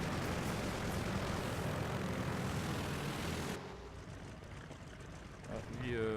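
A biplane's propeller engine drones steadily in the War Thunder arcade combat game, loud at first, then dropping to a softer hum after an abrupt cut, with someone talking over it.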